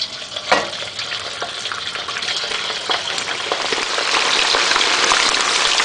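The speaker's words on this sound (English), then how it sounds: "once the oil is hot, we can go ahead and add in our shrimp" Shrimp dropped into hot oil for a Chinese spicy stir fry, giving a loud, steady, crackling sizzle that swells slightly over time, with a brief spatter near the start and no talk.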